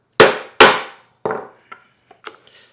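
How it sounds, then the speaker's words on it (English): A large chisel struck hard with a hammer through wood, with two loud, sharp, close blows followed by several lighter, fading knocks. "Now we take our large chisel, get it nice in the corners, and go ahead and hit it hard."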